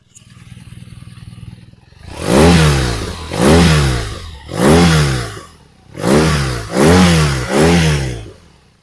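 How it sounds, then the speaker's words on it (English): A BMW R nineT motorcycle is revved with the microphone near the exhaust: a low idle burble, then six sharp throttle blips, each rising to a loud roar and falling back, the last three in quick succession. "I'll put the microphone down near the exhaust so you can have a look, or have a listen, should I say, at what this beast sounds like."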